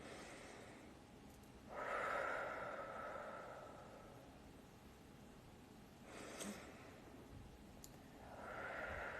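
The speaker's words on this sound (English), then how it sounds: "So we're just going to breathe in." A slow, deliberate in-breath during a guided anxiety-relief breathing exercise, soft and airy at low level, with a second fainter breath drawn later and another rising at the end.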